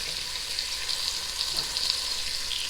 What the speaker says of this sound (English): I'm going to saute these in the oil until they're cooked